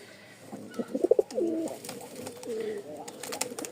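A male Rajshahi Tiger Giribaz pigeon coos in a short run of soft, throaty rolling calls close by, with a few sharp bursts early and quieter cooing after, under light background noise and a little talk.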